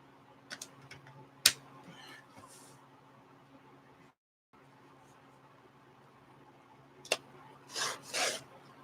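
Paper art cards are trimmed by hand, giving a few soft rasping cuts and scattered ticks, quiet and close, with a brief silent gap between.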